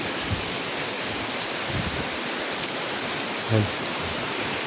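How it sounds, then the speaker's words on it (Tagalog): Water pours steadily from a small waterfall in a forest, a dense, continuous rushing wash heard up close with no talk over it. "Bagsakan lang talaga siya ng tubig."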